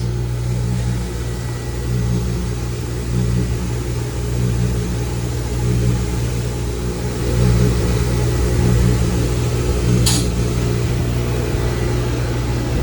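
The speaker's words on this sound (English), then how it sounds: "Now it's time to engage the top blast wheel." A shot blast machine runs with its top blast wheel engaged, giving a loud, steady mechanical roar and rumble that swells slightly partway through, with one brief sharp hiss, and no talking.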